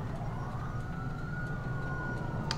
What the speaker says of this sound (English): And then we hear an ambulance siren